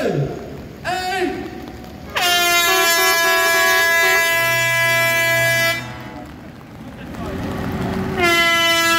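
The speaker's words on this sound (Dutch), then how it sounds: "het startsein geven via een luchthoren" Truck air horns blare as the start signal for a truck run with many lorries in the Land van Cuijk, long loud blasts, several horns sounding together near and far, with a pause before another horn rises again.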